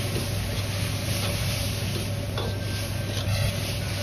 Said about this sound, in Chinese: 最后一定要开大火翻炒个十秒钟左右，把酱汁翻炒至粘稠